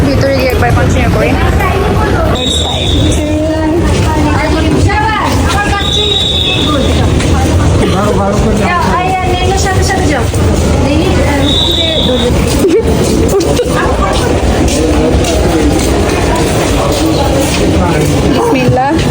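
A passenger train on a family trip to Cox's Bazar gives off a constant rumble and rhythmic rattling clacks. People chatter nearby over the steady mechanical noise.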